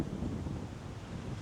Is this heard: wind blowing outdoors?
yes